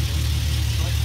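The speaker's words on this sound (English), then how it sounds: "Sounds like a V8, but definitely a V6." A V6 car engine idling nearby, a steady low rumble with a faint rhythmic pulse that holds even throughout.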